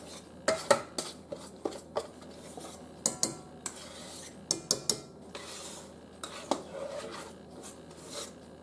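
Waffle batter is spooned into a bowl of whipped egg whites with a utensil, scraping and clinking against the bowl in a quick irregular series of close, light knocks and rubs.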